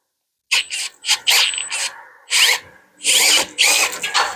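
Milwaukee M12 cordless pruning shears bite repeatedly into a thick cherry branch, giving five or six loud, close bursts of motor whine and crunching wood with short pauses between, the blade bogging down at its cutting limit.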